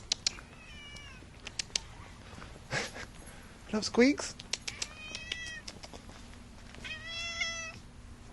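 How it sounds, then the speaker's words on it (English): A friendly hotel cat meows several times, short rising calls close by, with people chatting and speaking to it in between. "Is this the Gage Hotel cat?"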